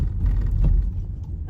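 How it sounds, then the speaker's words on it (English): Road traffic rumbles steadily past nearby, a low broad engine and tyre roar with one car swelling slightly louder midway through, in an outdoor spot where wild deer graze by a fence. "The cars are going past"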